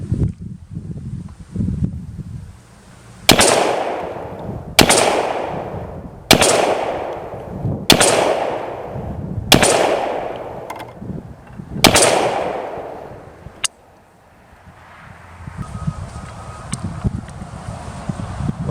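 Six loud, close rifle shots from a U.S. M1 Carbine in .30 caliber, spaced evenly about every one and a half seconds, each with a sharp crack and a long echoing decay, with wind noise outdoors before and after.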